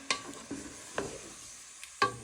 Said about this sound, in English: We're just going to give that a gentle stir